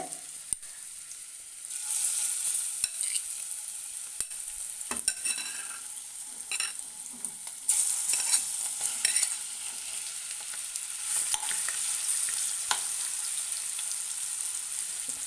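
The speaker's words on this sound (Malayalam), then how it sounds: "മാരിനേറ്റ് ചെയ്ത് വെച്ച ചെമ്മീൻ ഒന്ന് വറുത്തെടുക്കണം പാനിലേക്ക് വെളിച്ചെണ്ണ ഒഴിച്ചിട്ടുണ്ട്" Marinated prawns frying in coconut oil in a pan, a continuous close sizzle with scraping stirs and spatula clicks throughout, no talking.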